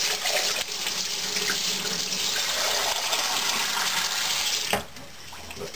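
Tap water runs steadily into a sink, rinsing out a container used for a homemade electrolytic capacitor, a loud continuous splashing rush that cuts off abruptly near the end, leaving a quieter trickle.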